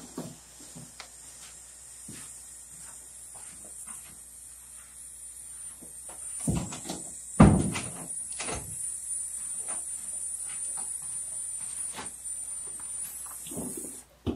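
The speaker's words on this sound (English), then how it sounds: "Why would you lock my door?" A front door is shut and locked indoors, with a soft rustle building to a loud thump and latch clatter midway, then quieter handling sounds and a faint steady hiss throughout.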